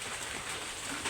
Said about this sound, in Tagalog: At yan, grabing ulan.